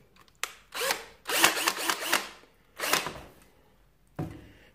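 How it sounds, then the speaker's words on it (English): Several bursts of a Parkside PBSA 20-LI A1 cordless drill whirring in drill mode, each a second or so long with short pauses between, close and fairly loud, no talking. "I'm going to drill it."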